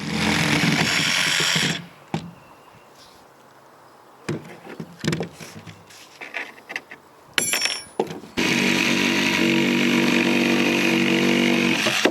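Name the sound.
power saw trimming excess plywood subflooring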